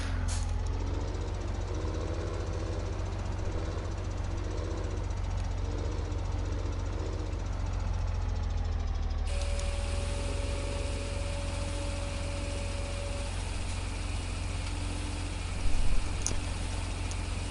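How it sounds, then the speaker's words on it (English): A tractor engine in Farming Simulator 17 runs steadily, a constant low mechanical drone with a rattling, knocking texture throughout, changing in tone partway through, with no talk over it. "I'm about to get my tractor stuck in here."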